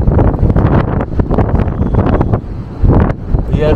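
Strong wind buffeting the microphone on a cruise ship deck near Hellesylt, loud gusty rumbling roar with rapid bursts, close and continuous across the whole clip.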